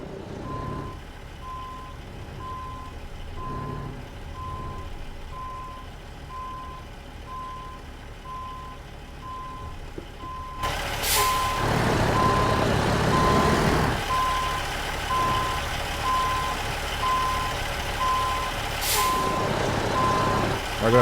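A heavy truck in American Truck Simulator reverses toward a low loader trailer, its steady engine drone carrying a repeating reversing beep throughout, with a sharp air brake hiss partway through and another near the end, no talk.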